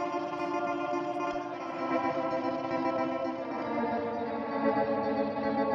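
A guitar pedal drone patch programmed in Kontakt sustains a thick, layered tone with chorus and echo shimmer, steady and swelling slightly, heard alone without any voices.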